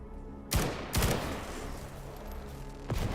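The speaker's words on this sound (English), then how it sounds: "That's a grenade." A grenade goes off in a game played in Ironman mode. Sharp bursts of explosive cracks crackle out, two close together and another a couple of seconds later, with no talk.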